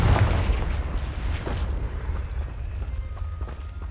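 A Confringo fire spell explosion in Hogwarts Legacy: a loud, deep boom at the start that rumbles and fades over a few seconds, with a second softer burst shortly after.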